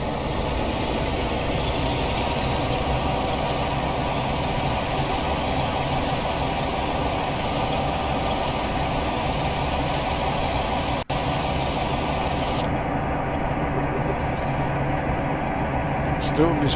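A Class 47 diesel locomotive in Train Simulator drones steadily on a railtour from Settle to Carlisle, its engine loud and continuous while climbing, with a brief click and a change in tone near the end.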